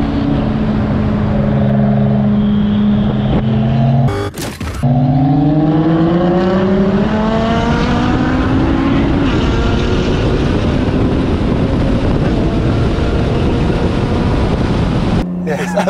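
A tuned 600 HP Nissan R34 Skyline GT-R accelerates hard in a street drag race, its engine note climbing through rising gears with brief shift breaks, loud and close under a speaking voice.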